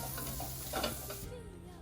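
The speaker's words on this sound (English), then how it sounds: "it's kind of sizzling, so we're gonna turn the heat down" Steady oil sizzling in a frying pan with a few scraping stirs, crackling continuously and close by, while cooking a breakfast sandwich, no talking.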